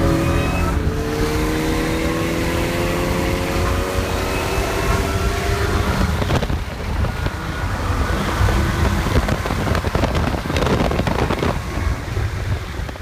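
A supercharged 2001 Bullitt Mustang accelerates hard in a drag race, its engine note climbing under heavy load against loud wind buffeting, the roar staying close and dominant throughout.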